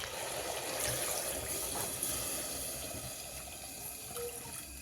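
Steady rushing of water streaming into a pot of mutton pulao, a continuous close pour with no voices.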